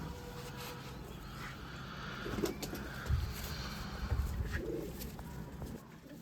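A golden male pigeon coos in low, soft bursts at close range on a rooftop loft, with faint background noise and a few louder thumps around the coos.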